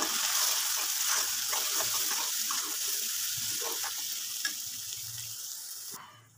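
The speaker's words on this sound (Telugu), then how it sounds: "అల్లం పేస్ట్ అనేది చూడండి మనకి ఆయిల్లో వేగుతుంది" Ginger paste frying in hot oil for a mutton liver curry, a dense continuous close sizzle with faint scraping, quieting abruptly at the end.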